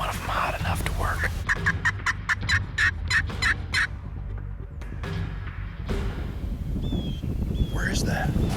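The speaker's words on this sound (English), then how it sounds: "So we got a bird gobbling." A wild turkey gobbles in a rapid series of sharp, rattling bursts at moderate distance outdoors, followed by quieter whispered talk and light wind noise.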